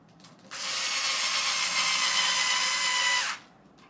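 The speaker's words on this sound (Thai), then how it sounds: "ไขควงไฟฟ้าใช้ได้นะครับ แต่อย่าไขให้มันสุดนะครับ" An electric screwdriver drives a screw into the wood of a Charvel San Dimas electric guitar with a Floyd Rose bridge, one steady high whine lasting about three seconds, close and alone, starting and stopping abruptly.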